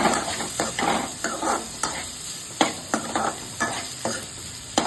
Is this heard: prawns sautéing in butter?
yes